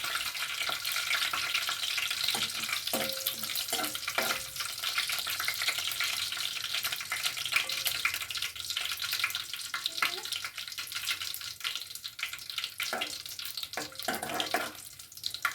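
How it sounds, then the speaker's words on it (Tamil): Whole garam masala fries in oil over a full flame for a mushroom pepper fry, producing a continuous close sizzle with scattered sharp crackles and pops. "முழு கரம் மசாலா ஃபுல்லாக போட்டேன். அது கொஞ்சம் நேரம் பொரியட்டும்."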